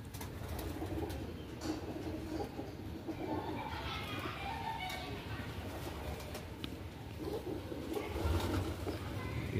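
Royal Teddy pigeons coo softly in a gallery, faint and fairly distant, under a low background murmur with occasional voices.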